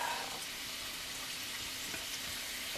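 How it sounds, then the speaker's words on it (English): Bacon sizzling steadily in a frying pan alongside potatoes and onions, a close, even crackling hiss that holds through without any voices. "And my bacon is starting to sizzle."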